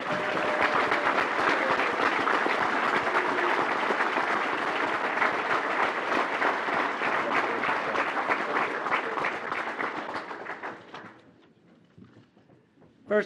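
An audience at a hockey awards ceremony applauds an honoree with dense, sustained clapping for about eleven seconds, then it thins out and stops, leaving near silence and a final faint knock.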